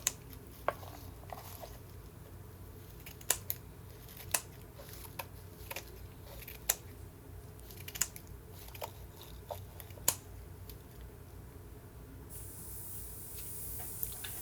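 Scissors snip at a DIY Easter rabbit made from Dollar Tree items, giving sharp, scattered clicks at irregular intervals over a quiet background hiss.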